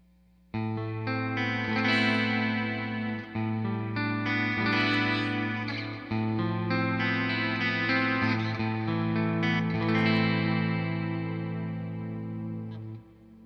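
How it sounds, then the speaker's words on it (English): Tease Guitars ST-1 SPR electric guitar on a clean tone through the bridge pickup, strummed chords ringing out steadily and close with sustained notes, heard alone with no talk. "we're going to start with the clean tones in the bridge position"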